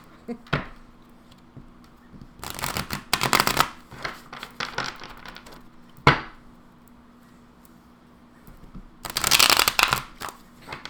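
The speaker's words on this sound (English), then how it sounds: "I might end up editing this and fast-forwarding through all the shuffling" Tarot cards are shuffled in several brisk, rustling bursts, separated by quiet pauses and the odd sharp tap.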